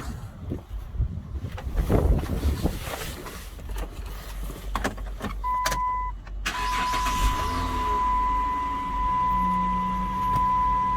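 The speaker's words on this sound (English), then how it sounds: "to start charging the AC, you want to start your vehicle" A Volkswagen Routan minivan engine cranks and catches, then settles into a steady idle heard close by, with a sustained tone and some clunks and mechanical noises around it.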